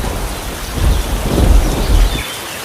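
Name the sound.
heavy rain and thunder in a cartoon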